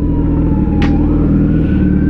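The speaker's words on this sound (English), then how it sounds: "And you can hear the ambulance coming." An approaching ambulance siren wails faintly in the distance over the steady low rumble of traffic, with a brief higher tone cutting through midway.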